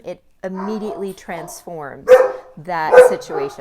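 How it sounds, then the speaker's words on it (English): Household dogs barking and yipping in short bursts nearby, breaking in over a person who keeps talking steadily throughout. "Sorry for my dogs."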